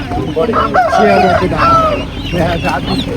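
Native country chickens and roosters at the Chandapura livestock market, where sheep and goats are also sold, crow and cluck loudly and close up in a steady, crowded din, with voices in the background.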